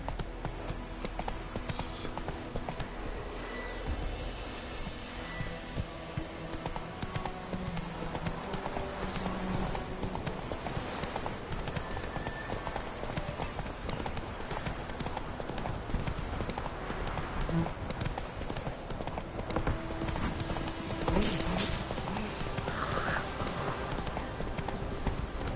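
Hoofbeats of the horse Roach galloping in a video game, a steady fast clip-clop rhythm running throughout over a busy layer of game music and ambience.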